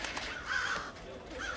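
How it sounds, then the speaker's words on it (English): Crows cawing in the stealth game Thief: one clear, harsh caw up close, followed by a fainter second call a moment later over a quiet ambient background. "Are those crows? Yes it is."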